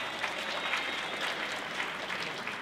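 An audience at a breakfast ceremony applauds Mr. Clarence Ross Sr., a steady wash of many hands clapping throughout, moderately loud and slightly distant.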